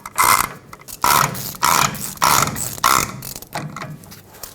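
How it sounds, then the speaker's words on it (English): A ratchet tightening a special socket on the rear hub of a 2011-2016 Ford F-350, five loud rhythmic bursts of clicking pawl strokes with short pauses between, close up. "Stick your special socket in and tighten it up."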